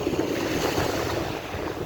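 On a windy beach at the water's edge, surf rolls and washes in a continuous loud roar, mixed with buffeting wind noise on the microphone.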